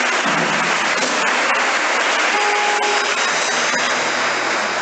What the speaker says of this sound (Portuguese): Vamos aplaudir poderosamente a palavra de Deus.